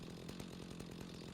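A chainsaw cutting into a tree in the game Rising World: a continuous buzzing engine roar with a rapid pulsing chatter, steady and unbroken, moderately quiet.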